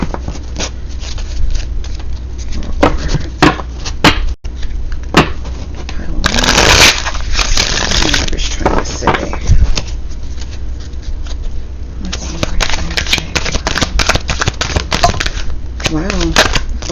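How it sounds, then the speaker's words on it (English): Oracle cards being shuffled close up, with soft papery riffles and a denser flurry partway through, over a steady background hum. "a lot of people like seeing the shuffle too"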